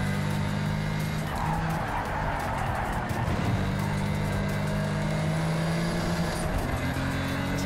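Rear-wheel-drive car driven in the Project Cars 3 racing game, a continuous engine drone with shifting pitch and brief tire-squeal tones, moderately quiet and steady throughout.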